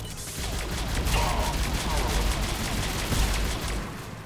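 A turret in the video game Mass Effect 3 firing rapid bursts of gunfire, dense crackling volleys running continuously at moderate loudness with a few heavier thumps.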